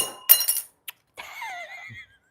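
Glass microscope slides clink together in a bright, ringing rattle and then a short tick. A thin, scraping, squeaky glide follows at close range.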